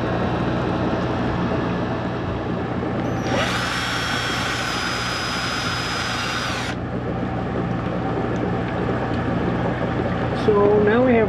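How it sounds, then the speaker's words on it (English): A power drill bores a hole in a plastic bucket lid, its high whine rising abruptly for about three seconds over a steady background hum of pump noise and bubbling, then cutting off. "I'll drill a hole in this bucket lid big enough to accept this size tube."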